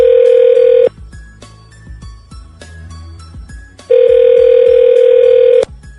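A telephone rings for a call on a radio show, two long loud electronic ring bursts separated by a quieter stretch of soft clicks and faint background sound.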